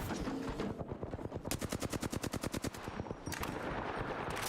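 Video game gunfire cracks out in a rapid, evenly spaced automatic burst of about a dozen loud shots, with a couple of further shots after a short pause.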